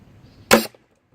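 Homemade PVC airgun firing a single Nerf dart through cardboard, one sharp loud pop with a brief rattle after it and then silence.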